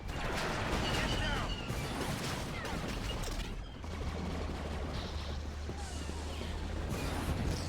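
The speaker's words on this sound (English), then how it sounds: "The explosions even have some variance to them, depending on what's going on." Explosions in the Star Wars: Battlefront video game, rumbling blasts and crashing debris over a constant low engine drone, with a dip midway before the roar and rumble build back up.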